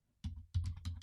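Quiet keystrokes on a computer keyboard: a brief cluster of soft, close clicks tapped in quick, uneven succession after a moment of silence.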